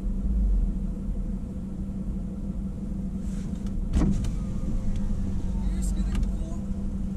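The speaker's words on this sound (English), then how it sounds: "RX-8 coming. Sorry, mate. And he's reversing." A Mazda RX-8 idles and rumbles nearby as it approaches and reverses, a steady low engine drone under people talking, with a brief mechanical clunk partway through.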